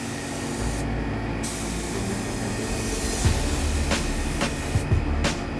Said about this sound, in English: what I'm doing is putting down a mist coat over the entire playfield